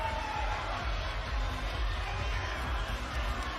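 Spectators at the 2024 NCAA men's volleyball championship, UCLA against Long Beach State, keep up a steady arena roar of cheering and chatter, with a commentator's voice faintly over it.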